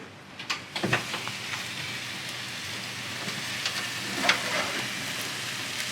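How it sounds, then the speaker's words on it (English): Steak au poivre sauce simmering and reducing in a pan, a steady soft bubbling hiss throughout with a few louder pops and spits near the start and one sharper crackle later, no voices. "Allow the sauce to simmer and reduce until a desired consistency is achieved."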